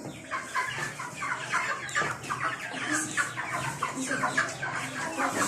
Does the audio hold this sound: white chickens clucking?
yes